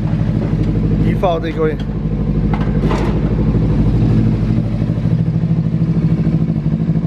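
Kawasaki Ninja 300 motorcycle with an aftermarket exhaust, its engine running close and loud in a steady throaty drone, with someone talking briefly over it.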